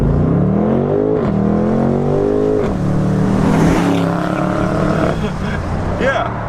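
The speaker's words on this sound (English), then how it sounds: "I'm gonna have to hit the accelerator one more time" A 2019 BMW M850i xDrive Convertible with an automatic 8-speed gearbox accelerates hard, its engine note climbing steadily in pitch and dropping briefly at each quick upshift, loud and close, with someone talking over it.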